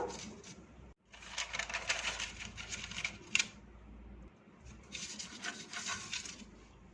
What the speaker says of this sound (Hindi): एक बटर पेपर को चिपकाने के बाद फिर से ब्रश करेंगे, इससे दूसरा बटर पेपर इसके साथ चिपक जाएगा।